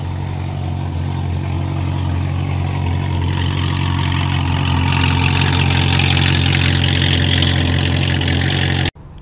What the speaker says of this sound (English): Dude, this thing sounds insane. Yeah, I'm going to. It's an insanely loud ass Corvette.